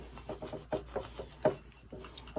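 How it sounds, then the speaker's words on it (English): A small scraping tool presses gold vinyl transfer tape down onto a teacup in quick, uneven strokes, with soft close rasping and light taps, no voices. "I'm going to use my little scraping tool"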